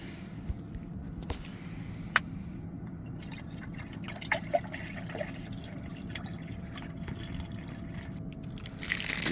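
Water poured into a 12V/24V electric food warmer, a soft steady trickle with occasional small drips and clicks, growing a little louder at the end.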